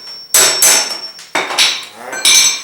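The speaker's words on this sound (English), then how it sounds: "use the blunt chisel against one of the lips and punch with a hammer counterclockwise to release it" A hammer drives a blunt chisel against the lip of the fuel pump retaining ring on a 1995 Ford F-150 fuel tank: about five sharp, close metallic strikes at an uneven pace, each ringing briefly.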